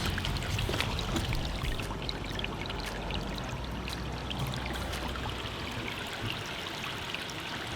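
Steady running water pours over a large shrimp's claws as they are rinsed, a continuous close splashing stream that keeps the same level throughout.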